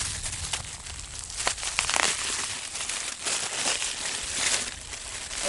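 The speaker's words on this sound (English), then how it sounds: "Let's take it out of cellophane real quick." Cellophane wrapper crinkling and tearing as it is pulled off a bandolier of M5000 jumbo firework crackers, steady close rustling throughout with a few sharper crackles.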